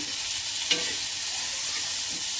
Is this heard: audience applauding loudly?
no